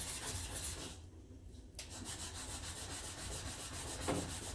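A steel chisel rubbed back and forth on a coarse sharpening stone to flatten its back, a steady gritty scraping in repeated strokes, close and fairly quiet, with one short break partway through.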